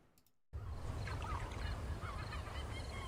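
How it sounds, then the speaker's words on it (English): Custom map ambience in the video game Unturned: a steady wash of wind and water noise starts abruptly and holds at an even level, with seagull-like cries calling repeatedly over it. "You can hear a little bit of the wind, a little bit of the seagulls, a little bit of the water"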